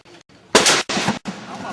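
AK-47 rifle shots at an outdoor rifle range: two loud, sharp cracks in quick succession, each followed by a brief ringing tail, with faint activity before the first shot.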